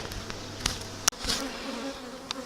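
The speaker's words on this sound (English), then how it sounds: "there's a lot of bees and they're just buzzing around, hitting me in the face" Honey bees buzz around an open hive as a brood box is added, a continuous close swarm drone with a few sharp knocks.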